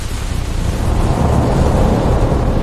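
Thunder rumbles through a winter storm, a dense, continuous roar of deep rolling noise that stays loud and steady for the whole stretch before cutting off abruptly.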